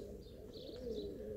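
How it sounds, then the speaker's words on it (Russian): Pigeons cooing nearby in a low, soft, throaty warble, with a faint chirp above and quiet outdoor ambience throughout the brief moment. "Голуби неплохие"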